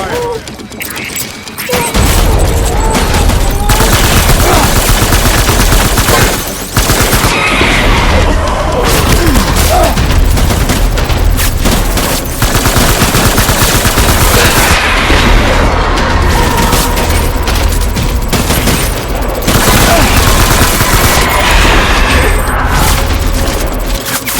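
Loud, dense gunfire and heavy booms fill a firefight in the video game Death Stranding (Director's Cut), with continuous volleys, crashes and explosions running nearly nonstop throughout.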